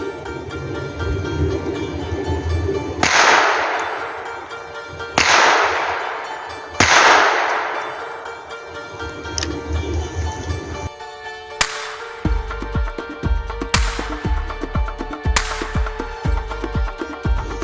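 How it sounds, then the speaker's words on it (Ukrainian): Three sharp shots from a Zoraki 914 traumatic pistol ring out a couple of seconds apart at 5 metres, each with a ringing decay, followed by metallic clanking and rattling. "Стріляю в центр."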